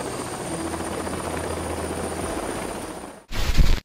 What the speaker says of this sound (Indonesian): helikopter serbu yang banyak digunakan negara NATO, AH-64 Apache